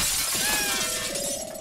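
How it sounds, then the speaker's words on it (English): A window smashes in the video game Naughty Bear, a loud, close burst of shattering glass with ringing shards trailing off over a second or so, no voices. "Smashed a window."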